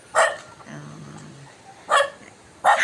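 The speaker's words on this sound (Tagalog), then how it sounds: "nagagalit sa akin ang aso ko" A dog barks in three loud, separate bursts, close by, after a typhoon, with a low growly whine rumbling between the first and second barks.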